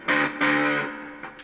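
A Fame 861 P bass played through an effects pedal and a bass amp, two sustained distorted notes followed by a quieter third, close and buzzy with no talking.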